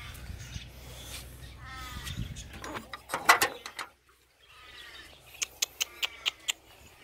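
A crow caws repeatedly outdoors at a house, a run of harsh calls followed by a brief pause and then another quicker series of sharp caws.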